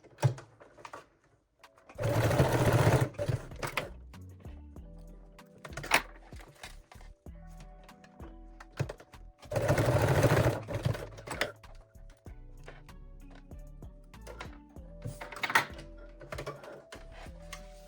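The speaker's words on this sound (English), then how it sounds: "Secure them with straight stitch." Sewing machine running a straight stitch through elastic, two sustained loud bursts of motor whir and rapid needle clatter, each about two seconds, separated by quieter handling clicks and rustles.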